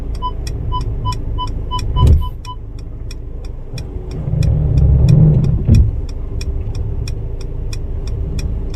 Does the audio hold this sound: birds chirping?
no